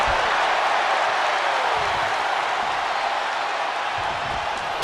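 An arena crowd in the video game WWE 2K25 keeps up a steady, loud roar of cheering and applause throughout, dense and continuous with no individual voices standing out.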